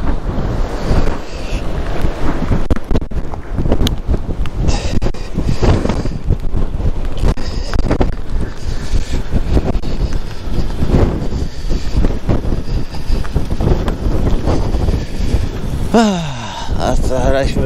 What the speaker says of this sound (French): Le vent est monstrueux en haut.